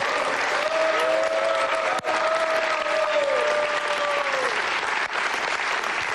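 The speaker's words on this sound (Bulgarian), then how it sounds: "Силни аплодисменти за него." A studio audience at a TV game show, Deal or No Deal, claps loudly and continuously for several seconds, with a thin musical tone sustained underneath.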